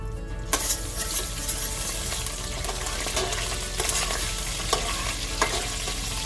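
Curry leaves and urad dal fry in hot oil for an okra sambar, giving a loud, steady sizzle throughout with occasional scraping stirs and light clinks of a utensil against the pan.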